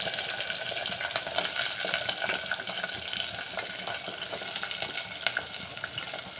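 Green chillies fry for a mutton head curry, giving a steady, close sizzle and crackle of hot oil in a pan with occasional stirring scrapes and no talking.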